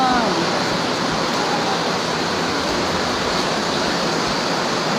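Water rushes into the Nossa Senhora de Nazaré maternity hospital building in a loud, steady roar like a waterfall, constant and unbroken for several seconds.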